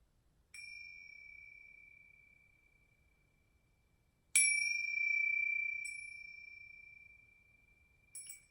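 A meditation chime rings out clear and bright, struck once and then again with long sustained tones that slowly fade, plus a few lighter tinkles, in a quiet room with no voices.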